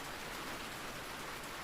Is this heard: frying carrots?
no